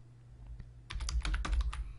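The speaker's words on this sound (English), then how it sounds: "start typing remote" Quick bursts of keystrokes on a computer keyboard while entering a search on a job site, crisp clicking that starts after a brief quiet pause and continues close and steady.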